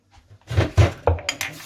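Chicken is mixed in a bowl for chicken Manchurian, giving a few close, sharp clinks and knocks of dishes and utensils in quick succession.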